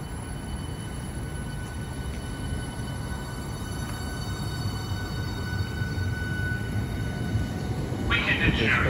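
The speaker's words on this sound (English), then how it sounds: "our final train of the day will be the 11:40. Southeastern Surge to St Pancras International" A Southeastern high-speed train, unit 395005, departing Ashford International on HS1 toward St Pancras; a steady low rail rumble and hum throughout that builds slightly near the end, with a brief brighter high tone at the very close.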